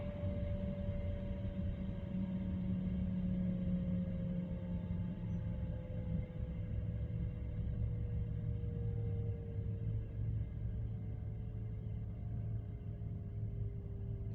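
A Russian truck maneuvers slowly near a loading ramp, giving a low, steady engine rumble with a faint whine that slowly falls in pitch. The sound is quiet and distant and continues without a break.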